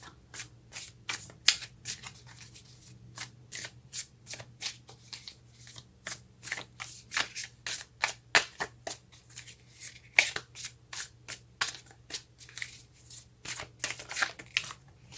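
A deck of cards is shuffled again and again by hand during a card reading, giving rapid, crisp riffling bursts in an irregular rhythm, close and clear with no talking.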